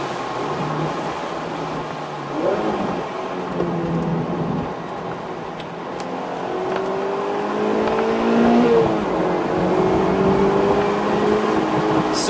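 Mazda Miata race car driving on the Lake Garnett Grand Prix Revival circuit, engine note rising and falling through gear changes under steady wind and cabin rumble, heard from inside at moderate loudness.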